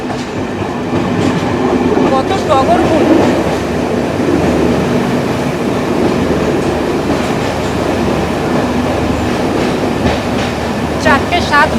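An Intercity Express train pulling into Vavuniya station in northern Sri Lanka makes a loud, sustained rumble with rail clatter and faint wheel squeals, while a voice speaks briefly over it.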